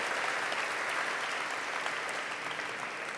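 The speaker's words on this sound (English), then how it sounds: "Everyone, a round of applause." An audience applauds the humanoid robot Sophia with dense, sustained clapping. The sound is loud and even and holds for a few seconds with no talk over it.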